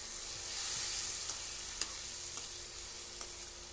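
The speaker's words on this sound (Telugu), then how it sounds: "ఆనియన్స్, కరివేపాకు వేసుకొని ఇలాగా బ్రౌన్ కలర్ వచ్చే వరకు వేయించుకోవాలన్నమాట." Onions and curry leaves fry in oil in a kadai with a faint, even hiss, and light scattered taps of a stirring spoon sound now and then, quiet and with no voices.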